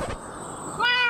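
A cat in the Minecraft video game gives a single short, clear meow close up, following a brief muffled sound at the start.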